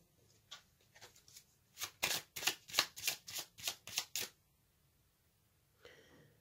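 A tarot deck is handled as a card is drawn, making a quick series of crisp paper flicks and riffles close to the microphone, then a short pause and one faint rustle near the end.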